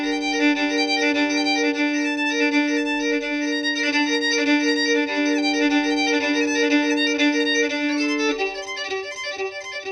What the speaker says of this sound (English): here you have some examples of how it would sound on an electric violin